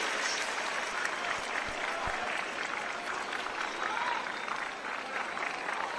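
A large crowd at Arthur Ashe Stadium applauding during a Djokovic–Federer tennis final, a sustained dense roar of clapping throughout, with a few thuds underneath.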